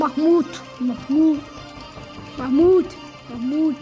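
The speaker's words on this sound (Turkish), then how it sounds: "köydeyim arkadaşlar. O yüzden kuş sesleri gelebilir." In a village, repeated soft hooting bird calls come in pairs of short, rounded notes at a steady rhythm, while a person speaks over them.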